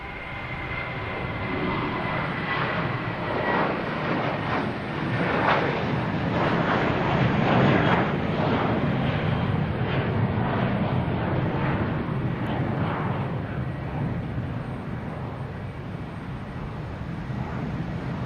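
A JetBlue Airbus A321 headed for Pittsburgh climbs away at Boston Logan, a wide engine roar that swells toward the middle and then slowly eases, heard from a distance at moderate level.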